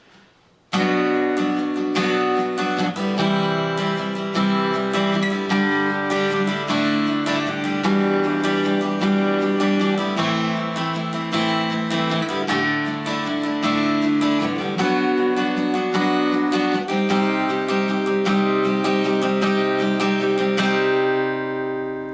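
An acoustic guitar strums full barre chords from Lifehouse's 'You And Me' in a steady rhythm, ringing loud and close for a long unbroken stretch without voices.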